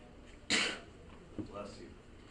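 A single sharp sneeze bursts out in a classroom during a math lesson, loud and short, followed by a softer sound and faint background murmur.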